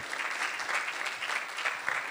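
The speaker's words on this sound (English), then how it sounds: "Let's give the Lord a hand clap of praise." A church congregation applauding at a ministry regional meeting, dense sustained clapping from many hands filling the room at steady volume for a couple of seconds.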